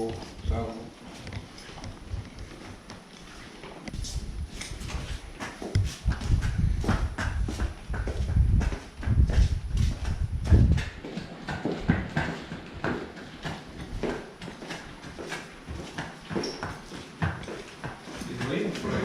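A horse walks while being led out toward a round pen, its hooves clip-clopping in a steady, nearby rhythm, with occasional voices talking over the footfalls.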